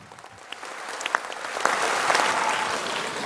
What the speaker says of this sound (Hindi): तो एक बार जोरदार तालियों से स्वागत।